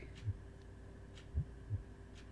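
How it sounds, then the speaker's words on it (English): A heartbeat effect from the video game Cooking Companions plays as a few soft, low thumps, some of them paired, over a steady background hum, quiet and with no talking. "I don't like the heartbeats."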